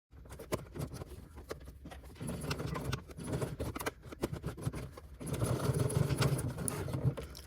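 A sewing machine stitches clear vinyl for a phone pouch, its rapid needle chatter running in uneven bursts with short pauses, close and fairly quiet.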